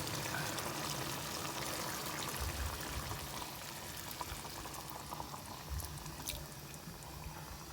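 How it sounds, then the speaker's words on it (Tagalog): Coconut milk pours into a pot of simmering string beans, giving a steady, close, continuous liquid rush with soft bubbling and sizzling that lasts throughout. "Kaya ilagay na natin yung ating kakang gata."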